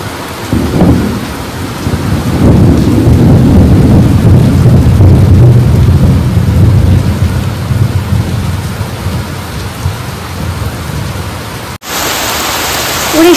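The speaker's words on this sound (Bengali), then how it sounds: "আর তার সঙ্গে মেঘের গর্জন।" Heavy rain pours in a dense, loud wash while deep rolling thunder rumbles through the middle, during a festival-season storm, with no voices heard.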